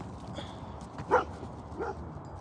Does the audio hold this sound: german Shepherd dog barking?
yes